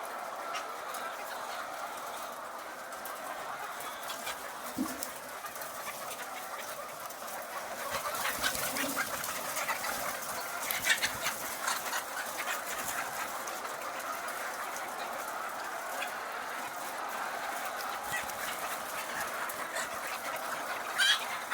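Hens on a poultry farm clucking and calling in scattered bursts over a continuous dense background of many birds, close and fairly loud throughout.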